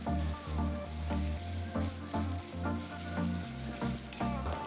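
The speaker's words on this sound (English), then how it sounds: "Once the oil is hot, add the chopped ginger to the oil and saute it" Chopped ginger sizzles in hot oil on medium heat, a steady frying hiss with rhythmic bursts as the pieces are stirred, fairly soft and close.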